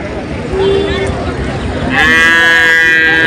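A bull moos at a busy cattle market, a loud drawn-out bellow rising near the end over a constant crowd murmur.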